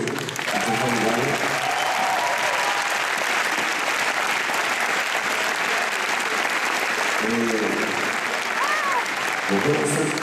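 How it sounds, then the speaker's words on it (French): An audience at a speech applauds the sound crew, a broad wash of clapping filling the room continuously, with a voice cutting in briefly near the start and again toward the end. "Applaudissez les gens du son"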